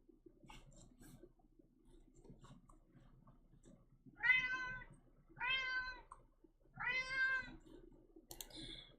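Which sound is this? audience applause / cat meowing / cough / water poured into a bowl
cat meowing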